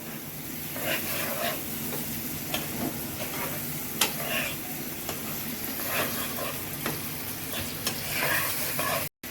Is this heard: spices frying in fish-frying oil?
yes